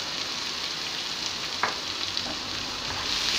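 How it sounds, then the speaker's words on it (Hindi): Chopped onions sizzle in a pan of hot oil with cumin and curry leaves, a steady close frying hiss with a brief stir partway through. "अब हम इसमें कटे हुए प्याज डालेंगे"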